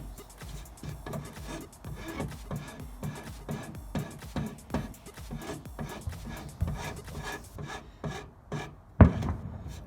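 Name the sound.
grinding rounded wood of buffet table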